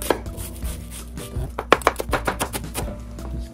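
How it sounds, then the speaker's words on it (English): A knife chops through half an onion on a cutting board, a series of sharp, close knocks that start sparse and then speed into a steady rhythm of about a dozen strokes, with no talking. "In this case, we are going to chop the onion."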